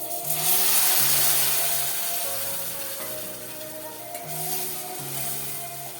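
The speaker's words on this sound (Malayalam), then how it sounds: "ഇനി നമുക്ക് ഇതിനകത്തേക്ക് കുറച്ച് ചൂടുവെള്ളം ഒഴിച്ചു കൊടുക്കാം" Hot water poured into a pan of ginger curry for Onam, setting off a steady, close sizzle and bubbling with soft stirring scrapes throughout, no voices.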